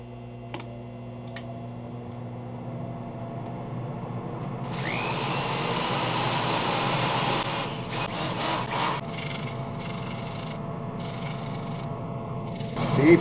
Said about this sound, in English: I think this is not going to be fun to sand.